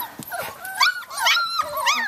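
Puppies whimpering and yipping as they make their way down stairs, a few high, thin whines and short yelps close by, with no talking.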